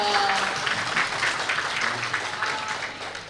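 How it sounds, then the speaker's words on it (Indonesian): An audience applauds at a Buddhist youth talk event, a dense burst of clapping that tapers slightly over a few seconds with no talk over it. "Tepuk tangan dulu dong."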